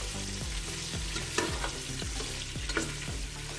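Meat browns for Kabuli pulao in a hot pot, a constant close sizzle punctuated by repeated stirring scrapes and clinks at a loose, irregular rhythm, with no one talking.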